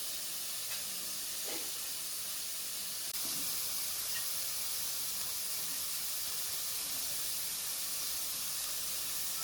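Onions and tomatoes sautéing in a pan for mutton boti kulambu, a steady soft sizzle and hiss that runs continuously with a few faint clinks, no talking.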